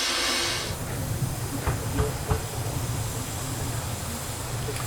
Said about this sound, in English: the trusty little engine comes to the front end of the train to couple up for the ride